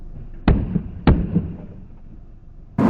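A gunshot near a parked car, caught by a dash cam: sharp loud booms, two in quick succession about half a second apart, followed by a third abrupt burst at the end, with a dull echoing tail.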